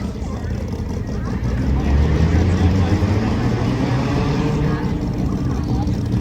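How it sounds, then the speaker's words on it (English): A car fitted with a side-exit exhaust pulls up in a parking garage at a car show, its engine a loud, steady low rumble that swells slightly as it nears, with people talking over it. "He got a side exit, so he's pulling up a little bit."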